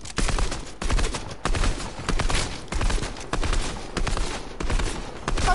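Rapid bursts of video game gunfire crackle in loud volleys with brief gaps between them, harsh and close, with no talking.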